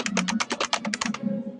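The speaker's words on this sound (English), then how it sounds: "I'm going to type some text into the noID box" Quick typing on a device keyboard, about a dozen rapid, evenly spaced key taps at close range, then stopping and leaving a faint background hum.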